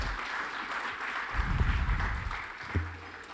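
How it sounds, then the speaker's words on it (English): Applause from the audience at a financial markets and economic outlook forum, a broad sustained wash of clapping heard at a distance in a large hall, swelling slightly midway. "Another round of applause for the Absa tag team."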